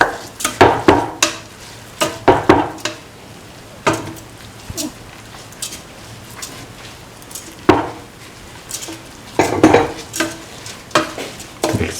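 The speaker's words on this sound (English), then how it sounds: "Mix the rice thoroughly" Rice with beans, carrot and coconut milk being stirred in a pan, a spoon scraping and knocking against the metal in irregular bursts over a faint sizzle, close and fairly loud.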